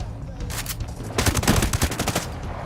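Rapid handgun fire in a video game, a quick burst of sharp overlapping shots building in the middle, close and fairly loud over a steady low background.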